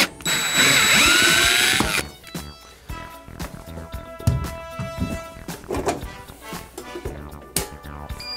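A power drill whines loudly for about two seconds while backing screws out of an electrical panel cover during a home inspection, followed by clattering, clicking handling noises of the cover and tools.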